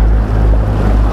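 A boat with a 115 hp outboard motor pulls away on the Amur river, a loud, steady low engine drone with wind rush over the microphone, no voices heard.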